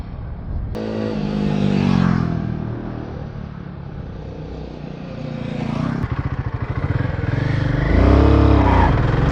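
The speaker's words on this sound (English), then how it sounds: "Wow, wheel spin!" A Royal Enfield Himalayan 450 motorcycle spins its rear wheel in mud, its engine revving hard and rising in pitch in several loud surges with a throbbing, pulsing rhythm up close.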